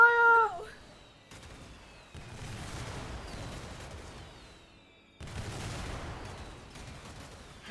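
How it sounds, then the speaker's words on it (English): Missiles fire in the sci-fi video game Warframe, coming as heavy rushing volleys of explosive noise in two long bursts after a short opening salvo, separated by near-silent gaps, with no talking. "Everyone, fire the missiles!"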